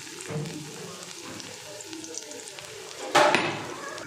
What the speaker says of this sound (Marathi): आता अद्रक लसूण चांगलं तळले